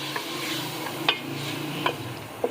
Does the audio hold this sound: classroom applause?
no